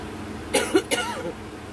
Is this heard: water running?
no